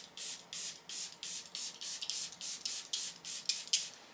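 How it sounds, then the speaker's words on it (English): A pump bottle of setting spray fires repeatedly in quick bursts, about fifteen short hissing sprays in a steady rhythm, close by. "I spray it quite heavily on my face."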